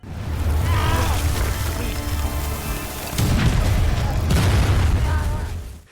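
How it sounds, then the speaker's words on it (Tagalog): Artillery shells explode in heavy booming blasts rolling one after another, deep and loud, in two long surges with crackling debris, like a continuous bombardment close at hand. "Sunod-sunod na bala ng kanyon ang bumagsak."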